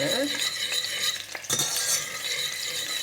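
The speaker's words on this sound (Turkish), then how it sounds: "o çili biberlerini birazcık zeytinyağında döndüreceğim" Chili peppers stirred and sautéed in a little olive oil, a steady sizzle with scraping utensil strokes against the pan and a brief clatter midway.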